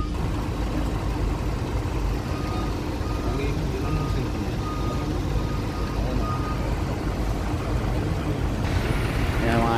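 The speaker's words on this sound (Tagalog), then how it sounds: "Yan yung sasakyan namin mga idol." A vehicle drives up a ramp into a ship's hold, its engine rumbling steadily amid loud droning machinery, with reversing beeps near the end and voices talking over the din.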